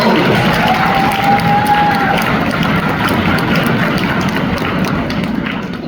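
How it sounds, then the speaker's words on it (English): A school concert audience applauds and cheers steadily, a dense wash of clapping filling the room and tapering slightly toward the end. "Round of applause for the cello."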